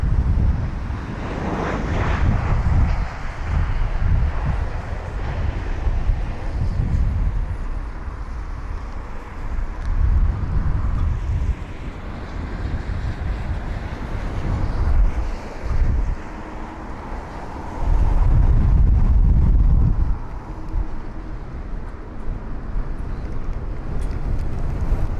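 Gusty wind buffets an outdoor microphone beside the runway at London Heathrow, a continuous low rumbling roar that swells in several loud bursts, with no talk.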